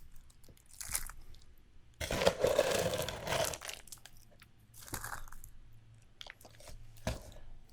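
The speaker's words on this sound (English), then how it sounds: "Gotta get that nice oniony crunch." Close, crisp crunching as someone bites into and chews a spicy chicken sandwich with onions. A long crunchy burst is followed by several shorter bites and chews, with quiet pauses between them and no talk.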